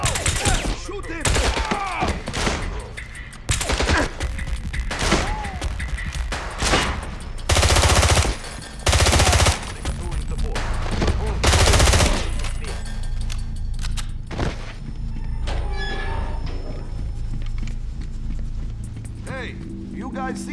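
Gunfire rattles through a 007 Blood Stone firefight as loud bursts and heavy single shots under shouted voices, with explosions and mechanical noise continuing as the shooting thins out.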